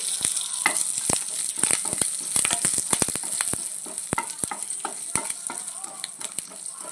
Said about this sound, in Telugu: ఎండుమిర్చి వేసేసుకొని ఇలా కరివేపాకు వేసేసుకొని పోపు బాగా వేయించుకోవాలండి